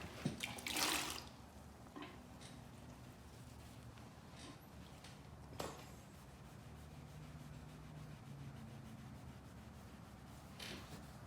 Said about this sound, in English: I'm going to lightly wet sand over this entire section here that's got these scuffs and stuff like that in it.